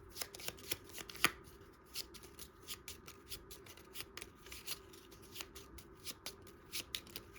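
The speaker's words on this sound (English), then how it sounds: "I'm going to shuffle this up." Cards being shuffled during a solo game of Lord of the Rings: Journeys in Middle Earth, a quick, repeated run of soft riffling snaps and taps, close and fairly quiet, with no voices.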